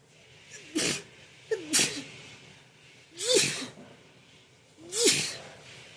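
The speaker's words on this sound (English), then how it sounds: "Oh, y'all, I have to sneeze." Four sharp, close sneezes spaced a second or two apart, each a sudden burst of breathy noise followed by quiet.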